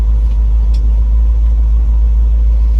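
A 1970 Chevrolet C20 truck, fitted with a 350 engine, idles with a loud, steady, deep rumble close by, with little change and no talk.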